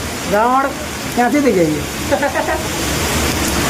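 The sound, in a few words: heavy rain falling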